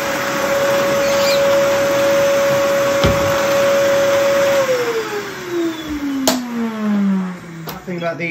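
Henry vacuum cleaner with a Numatic turbo electric power head running loud and steady up close, its motor whine holding at one pitch before winding down, with a couple of sharp knocks as it slows.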